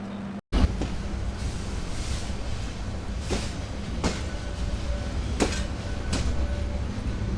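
The Burimari Express passenger train in Bangladesh rumbles steadily along the rails from inside a carriage, with periodic clacks of wheels over rail joints and a faint squeal.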